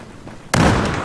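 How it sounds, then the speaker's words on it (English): A grenade goes off in the Battlefield 4 multiplayer shooter, one sudden loud blast after a quiet lead-in, followed by a rumbling noisy tail that holds to the end. "Grenade."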